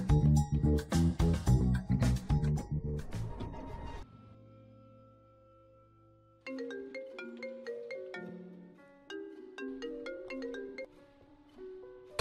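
A phone ringtone announcing an incoming call plays as a clear, melodic sequence of bright electronic notes. It follows a burst of louder music and a short near-silent pause.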